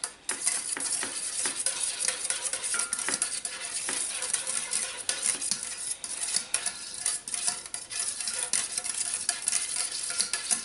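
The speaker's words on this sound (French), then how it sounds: "On remue bien" Candied strawberries are stirred in syrup in a kitchen pan, giving steady scraping and liquid clinks with a faint sizzle-like hiss throughout, with no talking.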